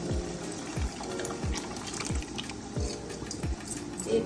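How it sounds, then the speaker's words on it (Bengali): Mutton cooking stock pours into a pot of thickening gravy, giving a steady wet trickle with regular dripping, splashy pulses close by. "মাটনটার রান্না করার যে স্টকটা ছিল, যে ঝোলটা ছিল, সেটাও আমি একটু ঢেলে দেব"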